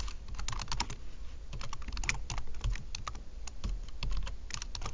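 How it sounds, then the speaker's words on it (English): Continuous typing on a computer keyboard while entering words into a document, steady quick key clicks close to the microphone with no voices. "typing in your words"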